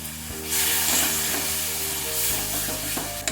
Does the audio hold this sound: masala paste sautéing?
yes